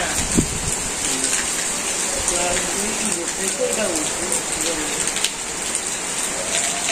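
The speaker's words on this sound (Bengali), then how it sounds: "অনেক বৃষ্টি" Heavy rain pours down on a Bangladeshi village in a steady, dense hiss that lasts throughout, with faint voices briefly audible beneath the downpour.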